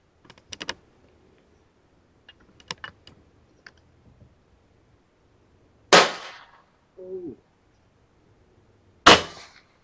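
Air rifle shots in a shooting contest, comparing an AVR with an LW polygon barrel against a Black Ant with a Dr. Slug barrel. Two sharp, loud cracks stand well apart, with fainter clicks and handling sounds between them.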